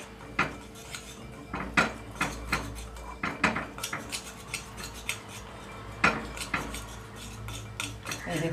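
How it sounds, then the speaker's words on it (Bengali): A spoon stirs a batter of flour and cornflour for cauliflower pakora in a bowl, giving irregular close clinks and scrapes against the bowl with soft wet mixing between them. "এইভাবে ঘুরিয়ে ঘুরিয়ে একদম পুরো মিশে যাবে ময়দার সাথে কর্নফ্লাওয়ার"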